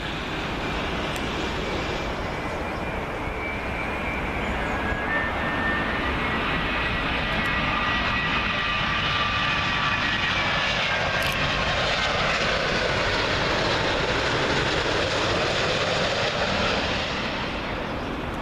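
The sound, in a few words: Virgin Boeing 787 Dreamliner arriving from Seattle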